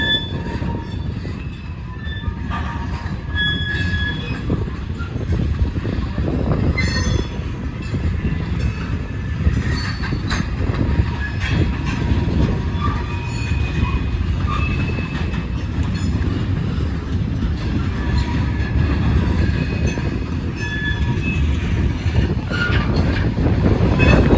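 RJ Corman freight train led by locomotives rolls down from high-ballasted Norfolk Southern tracks onto RJ Corman track, a loud, steady, close rumble of wheels and cars with intermittent squeals and clatter throughout.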